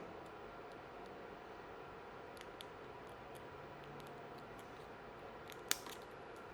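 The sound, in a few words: scissors cutting embroidery machine thread guide tube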